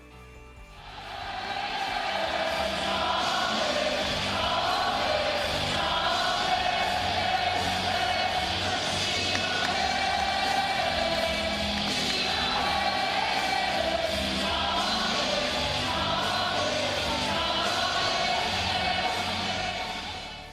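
A packed arena crowd in Singapore at a UFC fight roars and chants a fighter's name in a standing ovation, a loud, dense, sustained wall of voices rising and falling rhythmically.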